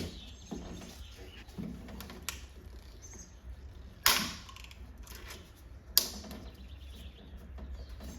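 Retaining clip being pried off the rear barn door lock of a Chevrolet Suburban GMT-800, two sharp metallic snaps standing out over quiet handling and faint background noise.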